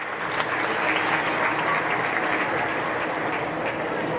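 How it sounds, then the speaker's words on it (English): Audience applause at a county livestock showmanship evening, an even, continuous patter of many hands clapping at moderate distance, holding steady for several seconds. "Please give them a round of applause."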